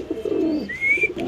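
A male kajal-eyed pigeon gives a single short, close, low throaty coo that rises into a thin whistling tone at the end.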